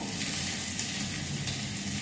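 Chopped onion and chili fry in oil in a pan, a close, continuous crackling sizzle with faint stirring scrapes mixed in.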